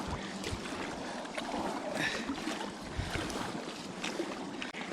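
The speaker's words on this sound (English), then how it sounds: "If I stop paddling, I'll actually go backwards." A kayak is paddled against a strong wind on a polluted industrial river in New York City, with steady water splashing and wind rumble on the microphone throughout.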